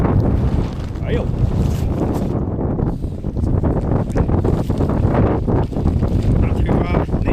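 Strong wind roars continuously in snowy mountains while a tent is folded, buffeting the microphone loudly with gusts, with faint fabric rustling and brief speech underneath.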